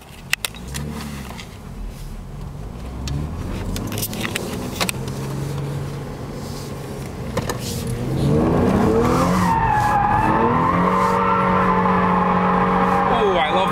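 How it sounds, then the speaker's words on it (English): A 2010 Hyundai Genesis Coupe drifts with loud, sustained tire squeal over a revving engine, the screech climbing and swelling in the second half, close by, with a voice briefly heard early on. "let's stop talking and start drifting."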